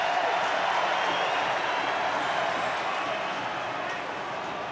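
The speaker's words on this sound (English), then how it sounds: "the crowd's getting right into this" Rugby league stadium crowd at a New Zealand Warriors versus North Queensland Cowboys match, a broad, steady roar of cheering with a commentator talking over it.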